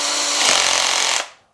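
A Parkside PABS 20-Li D5 cordless drill driver whirs steadily for about a second, driving into wood, then cuts off and spins down quickly. The sound is close and loud.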